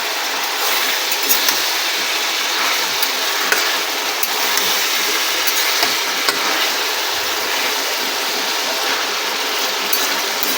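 Prawns sizzle steadily in a hot pan for a Bengali prawn and potato dish, a close, continuous crackling hiss with occasional stirring scrapes and no talk.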